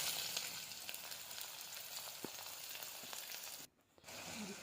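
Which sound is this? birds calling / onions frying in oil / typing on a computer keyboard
onions frying in oil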